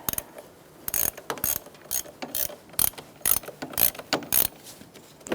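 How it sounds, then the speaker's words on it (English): Ratchet wrench clicking on a valve cover bolt of a 2007-2012 Nissan Altima 2.5L four-cylinder, heard as irregular bursts of sharp metallic ratcheting strokes, close and fairly loud, with no talking. "I'm going to use my ratchet wrench."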